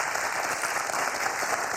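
A studio audience on the quiz show Questions pour un champion applauds, a continuous, even wash of clapping filling the whole short stretch at moderate loudness.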